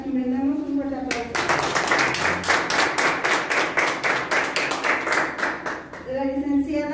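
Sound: applause at graduation ceremony

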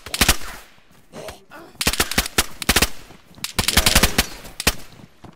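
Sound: gunfire in the video game DayZ

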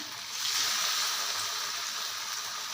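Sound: veg nuggets deep frying in hot oil

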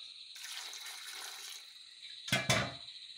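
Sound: water being poured into the sambar pot

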